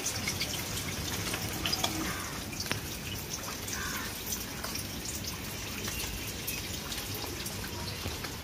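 Light drizzle falling steadily into a pond on a rainy day, a soft continuous patter with scattered drops, close and fairly quiet, no voices.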